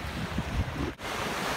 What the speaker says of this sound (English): But look how the waves, they foam on the sand.